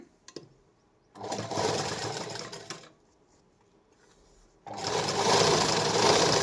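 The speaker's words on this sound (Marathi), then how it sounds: "आता ही कंटिन्यू मी शिलाई मारून घेते" A sewing machine stitches the lining of a katori blouse in two loud bursts of steady whirring, a short one and then a longer one, with a near-silent pause between them.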